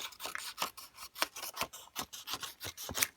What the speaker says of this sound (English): next I will take my scissors and get rid of all of this excess